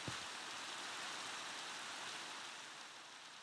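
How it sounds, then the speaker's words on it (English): Steady rain falls with an even, hissing wash of drops that is constant and close, with a faint thump at the start and end and no talking. "the sound of the rain just, ugh, hurts the shit out of me."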